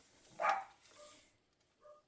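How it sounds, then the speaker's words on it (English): Pet dogs barking indoors in a crafting room, one sharper bark near the middle followed by a couple of softer yips, fairly faint and distant. "you're going to hear my dogs."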